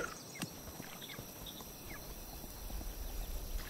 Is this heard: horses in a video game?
yes